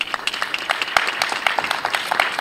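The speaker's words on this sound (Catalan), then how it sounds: "Un fort aplaudiment per ell." A crowd applauds steadily at a Borgia historical fair, many hands clapping in a dense, lively burst that carries on without pause.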